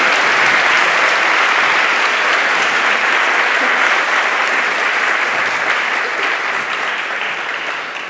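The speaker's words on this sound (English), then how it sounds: "Please, another round of applause." A PyCon Colombia 2024 keynote audience gives a long, full round of applause, dense and sustained throughout, easing slightly toward the end with no speech over it.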